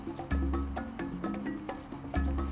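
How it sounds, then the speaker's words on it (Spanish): Cicadas chirping at an outdoor interview location, a loud insistent buzzing drone with pulsing rhythm close by, heard alone without speech. "hay unas chicharras que van a meterse en el sonido de la entrevista que vamos a grabar"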